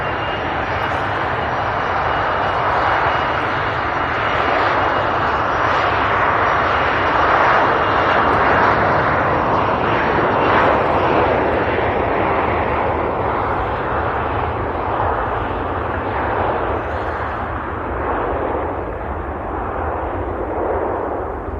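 A Loganair airliner takes off at Manchester Airport, a loud, sustained jet roar that holds steady, broadband and powerful, throughout.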